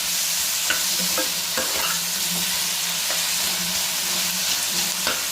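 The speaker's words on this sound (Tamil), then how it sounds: "இது வதங்குற வரைக்கும் கொஞ்சம் கிளறி விட்டுட்டே இருக்கணும்" Tomatoes and onions sauté in a hot pan while being stirred, a constant sizzle broken by repeated scraping strokes of the spoon at an uneven rhythm.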